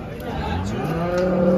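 Jersey and HF cows at the Chalisgaon cattle market low in drawn-out, deep moos over a continuous murmur of crowd chatter and voices nearby.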